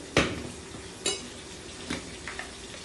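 A spoon stirs salt and spices into eggplant in a pan, making a few separate scraping clinks, one loud and then fainter ones, alone and close.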